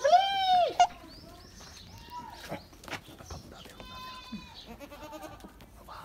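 Goats bleat loudly and nearby in a rural outdoor setting, with a long wavering cry at the start and further shorter bleats from the herd, amid bird chirps and some background voices.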